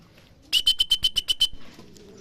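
A racing pigeon at a training loft gives a quick run of about eight evenly spaced, close calls lasting roughly a second, over faint background noise and no speech.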